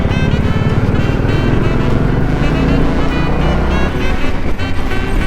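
A 2022 Royal Enfield Classic 350 motorcycle cruises with two riders aboard, its engine a loud, steady, close drone mixed with road and wind noise, with no pause.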